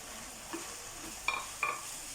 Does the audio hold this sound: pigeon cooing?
no